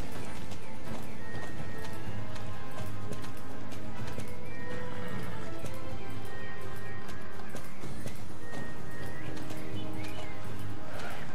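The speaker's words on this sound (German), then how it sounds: "Red Phantom ist ja auch nicht so schnell wie ein normales Pferd" Horse hooves gallop in the video game Star Stable, a steady rapid clip-clop running continuously under a dense, loud game soundtrack with no pauses.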